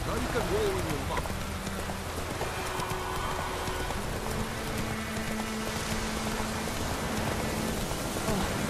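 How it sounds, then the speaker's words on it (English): Rain falling in The Witcher 3 as a steady broadband hiss under game music and horse hooves, continuous and moderately loud, with voices talking over it. "Let it rain. Wash the blood from the fields."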